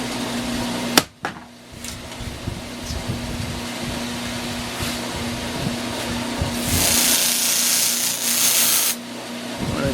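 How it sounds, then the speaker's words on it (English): A sharp knock, then a steady motor whir of a spinning sanding mop, with a brighter hissing rasp rising midway as wooden fretboard ornaments are smoothed. "we're over at the sanding mop"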